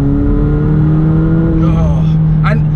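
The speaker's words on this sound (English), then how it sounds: "You can hear the things, the turbos sucking in air." A McLaren 720S engine hums and revs up close with a steady tonal drone, then a rising whoosh and whistle as the turbos draw in air, with faint talk under it.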